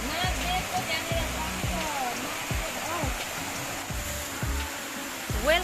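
A waterfall near Hetauda roars as a steady, dense rush of water throughout, with a voice and swooping tonal sounds running over the constant noise.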